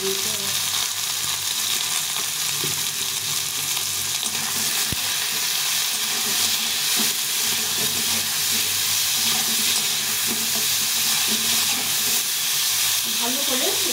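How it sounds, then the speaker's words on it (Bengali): Pointed gourd fries with a little salt and turmeric in a pan, giving a loud, dense, continuous sizzle and hiss close up, with occasional light stirring clatter. "সামান্য একটু নুন, আর সামান্য একটু হলুদ দিয়ে এটাকে ভেজে নিতে হবে।"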